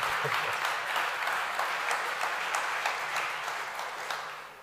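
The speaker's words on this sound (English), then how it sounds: "You will get applause for that" A live audience at a talk with Yuval Noah Harari gives a round of applause, soft and distant, a steady patter of many hands that slowly fades, with no talking.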